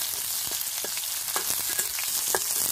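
Onions fry in hot oil with cumin, mustard seeds and green chili, giving a loud, steady, close sizzle with faint crackles and light stirring clicks throughout.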